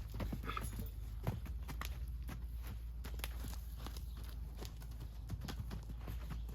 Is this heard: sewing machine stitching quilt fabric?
no